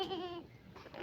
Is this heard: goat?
yes